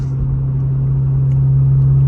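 A Toyota GR86 fitted with an aftermarket axleback exhaust drones steadily at a low, even pitch, a loud close rumble holding constant through the whole stretch with no talking.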